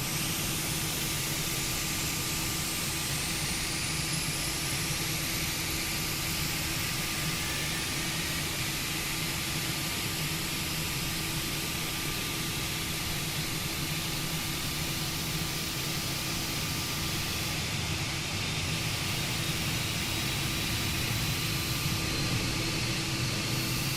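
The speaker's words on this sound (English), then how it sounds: "Let's do an outside engine start" An Airbus A320 engine spooling up in Microsoft Flight Simulator, heard from outside the aircraft: a steady, dense roar with a thin whine layered on top, holding fairly even for about twenty-four seconds with no voices.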